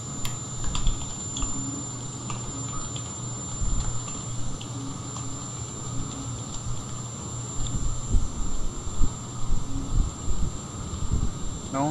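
Computer keyboard keys clatter in a quiet, steady stream of light taps against a constant background hum, with a brief flurry of heavier typing near the end.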